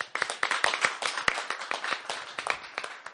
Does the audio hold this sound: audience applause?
yes